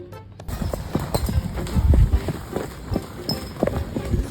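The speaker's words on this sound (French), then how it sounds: "Il y a des chevaux" Horses' hooves clip-clop in an irregular rhythm at moderate distance, near Maisons-Laffitte, the footfalls continuing steadily over a faint background hum.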